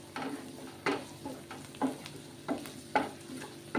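Ginger and garlic sizzle in a hot pan while a spoon stirs them in regular scraping strokes about once a second over a soft, steady frying hiss, close and quiet, with no voices.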